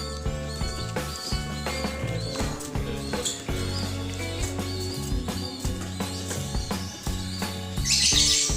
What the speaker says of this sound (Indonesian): Ini anakan burung usia 11 hari